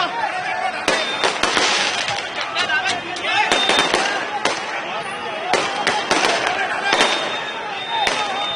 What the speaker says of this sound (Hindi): भैया ये पटाखे बंद कीजिए।